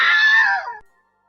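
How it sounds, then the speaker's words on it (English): The Wilhelm Scream, a stock film sound effect recorded over 70 years ago, rings out as a single loud, sharp scream that fades after about a second, alone. "This is a scream that has appeared in more than 400 films and television programmes."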